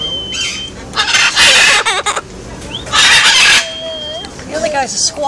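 Loud, harsh parrot squawks and clucking calls burst out in repeated bouts, close by, with short quieter gaps between them.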